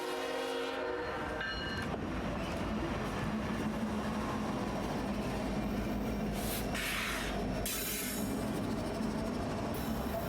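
A BNSF and Ferromex freight train with an SD70ACe and an SD75M rolls past in a steady, heavy rumble with clattering wheels, and a train horn sounds briefly near the start and again later.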